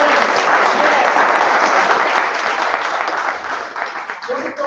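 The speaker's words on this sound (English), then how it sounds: "So we will all clap once again together." A Toastmasters club audience at a joint meeting claps together in a loud, dense, continuous burst of applause that stays full throughout and thins slightly near the end.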